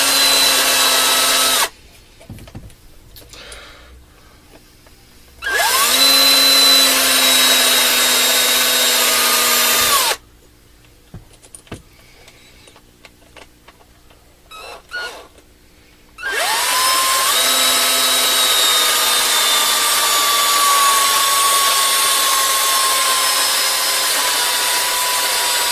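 Small power drill boring holes in an RC car axle, three sustained whirring bursts of several seconds each, close and loud, separated by quieter pauses with faint handling noises.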